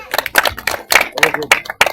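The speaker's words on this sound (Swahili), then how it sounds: "Yeah, makofi." Mourners at a funeral give a short burst of clapping, a quick run of hand claps lasting a couple of seconds, close and fairly loud.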